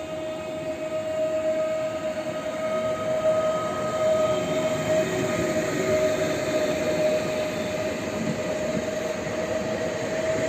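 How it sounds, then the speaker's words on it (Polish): A departing S3 line train at Warszawa Gdańska station rumbles steadily throughout with a sustained whine riding over the noise, a continuous mechanical drone with no voices. "Pociąg linii S3"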